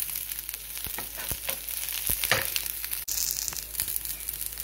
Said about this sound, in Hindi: हम डालेंगे अभी ये हरी मिर्ची और करी पत्ता, 1 मिनट के लिए भूनेंगे इनको